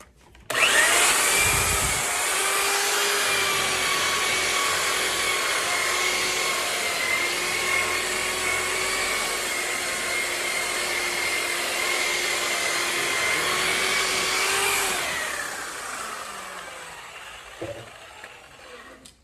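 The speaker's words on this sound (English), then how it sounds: "then you're gonna polish it with your polisher" An electric polisher with a wool pad works over Venetian marmorino plaster, giving a steady close whine and whir that holds for about fifteen seconds before spinning down, followed by light handling noises.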